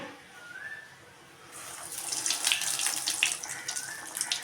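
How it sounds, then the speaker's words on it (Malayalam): Paneer cutlets deep-fry in hot oil; after a quieter opening, a dense, close sizzling and bubbling crackle sets in and continues with small pops, without talk. "നമ്മൾ ഫ്രൈ ചെയ്തുകൊണ്ടിരിക്കുകയാണ്. ഡീപ്പ് ഫ്രൈ ആണ് നമ്മൾ ചെയ്യണത്."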